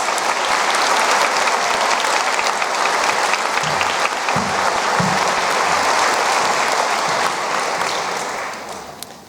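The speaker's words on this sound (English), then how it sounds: "Please everybody give them a warm round of applause." An audience at a nursing pinning ceremony bursts into loud, sustained applause, dense clapping continuing steadily for several seconds before tapering off at the end.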